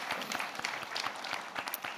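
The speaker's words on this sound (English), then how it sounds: "that actually deserves a round of applause" Quiet applause from a conference audience for a panelist, rapid dense clapping heard from a distance, soft and even for the whole stretch.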